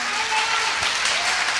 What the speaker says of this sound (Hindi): मैं चाहूंगा सर के लिए एक जोरदार तालियां।